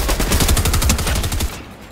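Rapid automatic gunfire in Fortnite crackles in a loud, fast string of shots for about a second and a half, then cuts off abruptly.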